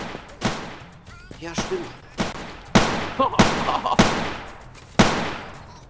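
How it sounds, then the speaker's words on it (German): Shotgun blasts in a Roblox game fired at car tires: about seven sharp, loud shots come in irregular bursts, each with a short decaying tail. Someone speaks German briefly between the shots. "Richtig nice mit der Shotgun."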